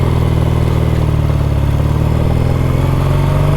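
A Triumph Bonneville T140V motorcycle engine idling too high, a loud, steady, close thrumming burble with a fast even pulse and light mechanical clatter throughout.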